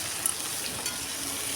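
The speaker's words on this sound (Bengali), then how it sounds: "ক্যাপসিকামটা আগে একটু ভেজে নিচ্ছি" Capsicum fries in a pan with a steady, even sizzle throughout, a few faint clinks of stirring, close and moderately loud, with no voices.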